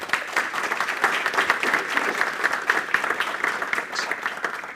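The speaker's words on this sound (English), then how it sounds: "Round of applause." A moderate crowd at a tech conference gives a round of applause, uneven clapping with distinct individual claps, fairly close and steady for a few seconds.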